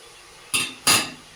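A metal lid set onto a cooking pot, two quick clanking knocks about a third of a second apart, close and fairly loud, with a brief ringing decay after each.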